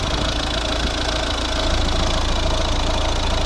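A 2010 Volvo V50 with a 1.6 D2 diesel engine idles steadily, a continuous close, even rumble with no talk over it.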